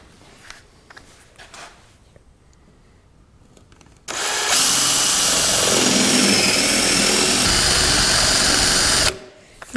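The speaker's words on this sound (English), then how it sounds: "we can just drill out, again, using our paddle bit" A paddle bit drills into wood on a rocking horse, starting with a few faint handling noises and then a loud, steady whirring and grinding that runs for about five seconds before stopping abruptly.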